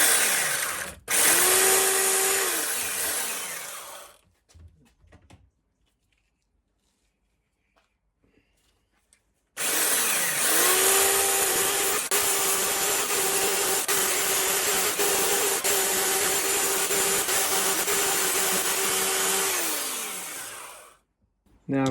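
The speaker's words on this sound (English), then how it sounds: "So I've got a power file with 60 grit on it." A power file fitted with 60-grit abrasive sands metal on an engine part, giving two long, loud, rasping runs, a short burst and then an extended pass, separated by several seconds of near silence.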